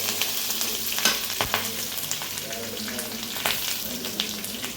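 Red chillies and curry leaves sizzle and crackle steadily in hot oil for lemon rice, with constant frying hiss, small pops and occasional clinks of a stirring spoon against the pan.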